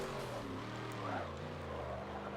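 A voice mimics a tiny car engine revving, a quiet, buzzy, droning tone whose pitch glides down and up over a couple of seconds.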